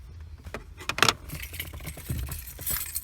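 A bunch of car keys for a Lincoln Mark VIII jangle and clink in bursts, with a sharp metallic rattle near the start and lighter scattered jingles afterward, close to the microphone.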